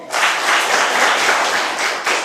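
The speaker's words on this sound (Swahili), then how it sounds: "Pigeni makofi." Students in a classroom give a round of applause, a dense, steady patter of many hands clapping at close range for about two seconds.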